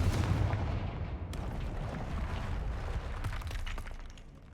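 Spell explosions from a fantasy video game, a dense, loud, sustained burst of crackling and booming blasts with shattering debris, filling the whole stretch before tapering off slightly at the end.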